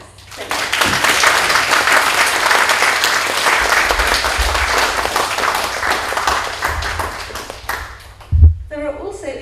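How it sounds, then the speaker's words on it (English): Steady, loud applause from a conference audience at a plenary and closing session, continuous clapping filling most of the stretch before it tapers off near the end, with a brief thump just before it stops. "So can we applaud them first?"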